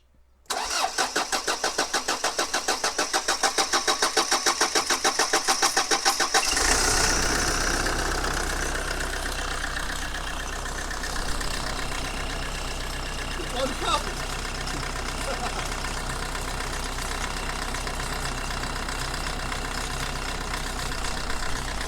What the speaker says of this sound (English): First start in a very long time.